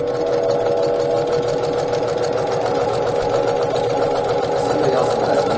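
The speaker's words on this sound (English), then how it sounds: "we're just gonna take this to the sewing machine and sew right on that line." A sewing machine stitches half square triangles cut from 2.5-inch fabric squares with a fast, steady mechanical whir and rapid needle chatter. It runs continuously at moderate loudness with no voices over it.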